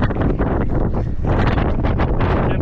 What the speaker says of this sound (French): Un vent de folie là.